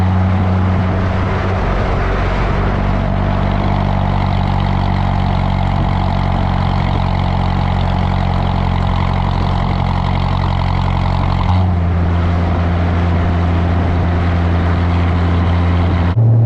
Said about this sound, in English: you can definitely hear when it kicks into that V4 mode